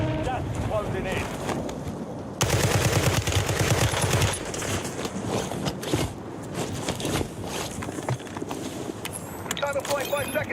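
Rapid automatic gunfire bursts from the Warzone video game crackle loudly, starting abruptly and continuing in clustered volleys with scattered shots, while someone talks over the action.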